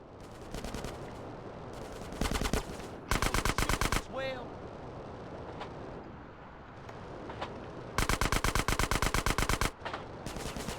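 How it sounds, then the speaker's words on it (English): Automatic gunfire in GTA San Andreas, loud rattling bursts repeating in several volleys with short pauses between, a brief whistling sound in the middle and someone talking in between. "Oh god, they're shooting at me."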